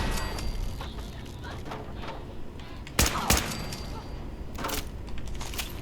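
Gunshots in Fallout 4, a few sharp close cracks, two in quick succession then another, over ongoing game sounds and background noise.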